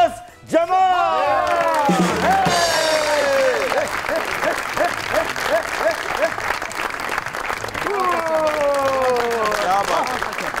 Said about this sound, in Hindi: आपकी बहुत सी तालियों में दी one and only Firdous Jamal